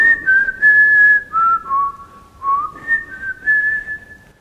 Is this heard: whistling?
yes